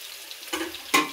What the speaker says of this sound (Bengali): এখন আমি মশলাটাকে ভালোভাবে কষিয়ে নেব, ঢেকে দেব।